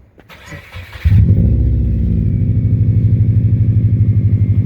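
A 2009 Subaru Impreza WRX engine with about 305,000 miles and a Borla aftermarket exhaust cranks and starts, then settles into a deep, throaty idle with a steady pulsing burble, close and fairly loud.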